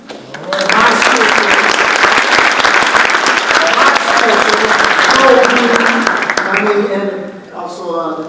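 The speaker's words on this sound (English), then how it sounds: "let's give applause for UNT" Loud, sustained applause from a banquet crowd honoring UNT, dense clapping filling the room for about seven seconds before tapering off as a voice begins speaking at the end.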